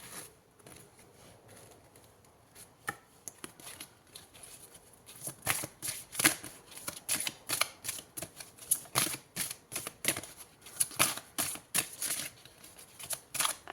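Tarot cards are shuffled for a horoscope reading, first with a few soft taps and then a long run of quick, crisp riffling flutters and slaps, close and dry, with no talking.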